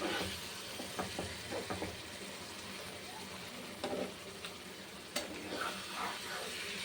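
Food frying in a pan is stirred slowly, with a steady low sizzle and soft scraping strokes that come in scattered bursts, fairly quiet and without talk.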